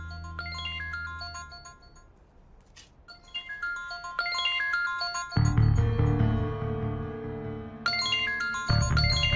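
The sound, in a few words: mobile phone ringing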